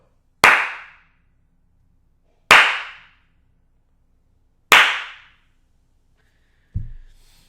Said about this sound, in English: I'm gonna clap so that we can check the echo